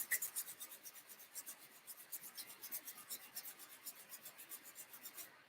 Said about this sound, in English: Rub your hands together. Build in some heat.